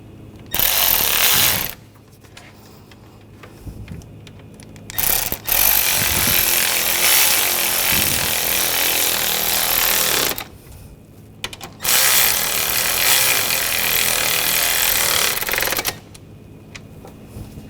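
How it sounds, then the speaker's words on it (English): A power tool drives screws into the dual radiator and condenser fan assembly of a 2014–2020 Nissan Rogue, giving several loud, close, sustained whirring bursts of a few seconds each with quieter pauses between them and no talking. "And take the screws, get those started."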